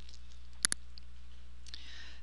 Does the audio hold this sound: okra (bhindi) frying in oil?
no